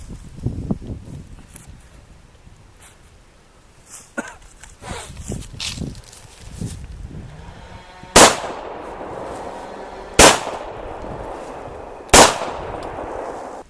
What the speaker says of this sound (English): We'll fire a couple more rounds through it.